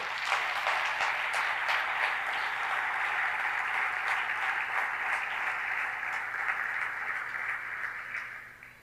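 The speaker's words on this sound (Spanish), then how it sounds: "Dale un aplauso a Cristo" A church congregation gives a dense, continuous round of applause during a sermon, steady and fairly loud for several seconds before fading out at the end.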